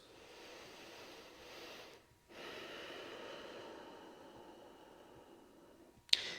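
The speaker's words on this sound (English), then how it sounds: "Let go, and then inhale through the nose," Someone breathes slowly through the nose during a nasal unblocking exercise, making a long, soft airy inhale and exhale, close and quiet, with a brief sharp sniff at the end.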